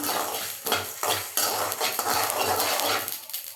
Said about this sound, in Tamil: நல்லா பொரியுது பாருங்கள்.